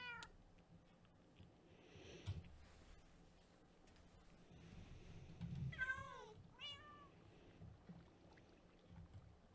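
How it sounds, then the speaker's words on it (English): Cats meowing in a Minecraft SMP world: several short, rising meows cluster in the middle and latter part over a busy game background, with one louder thump early on. "That startled me hearing the cats meow at the same time."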